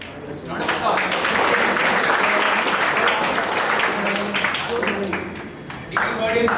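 A round of applause from an induction ceremony audience, quickly swelling into sustained, crowded clapping that thins slightly toward the end, with voices mixed underneath.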